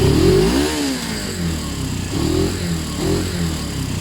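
A Suzuki GS500 motorcycle engine fitted with its original airbox and air filter runs close by, revving up in a few short blips that fall back toward a steady idle.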